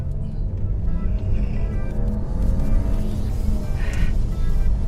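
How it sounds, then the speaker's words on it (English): A 2016 BMW with the N55 engine drives along, its engine and exhaust a steady, loud low rumble heard from inside the cabin, with no clear voices. "did I mention how good the exhaust sounds?"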